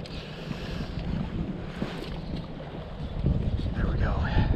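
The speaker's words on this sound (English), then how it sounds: "Now we just have to combat that dang wind." Gusty wind buffets the microphone on a river while fly fishing a tailwater on the Green, producing a steady rumbling roar that swells louder near the end.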